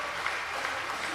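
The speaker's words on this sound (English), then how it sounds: "We applaud Gervais Lorenzi for the amazing, this amazing rencontre." An audience at a conference in a lecture amphitheatre claps together, giving dense, steady applause that is continuous and moderately loud and fills the room.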